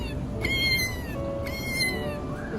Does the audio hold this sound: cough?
no